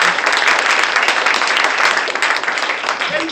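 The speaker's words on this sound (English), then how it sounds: "Give yourselves a round of applause," Loud, dense applause from an audience at a symposium fills the room, steady and close for a few seconds, with faint voices mixed into the clapping.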